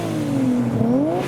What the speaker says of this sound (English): Revs from the R34.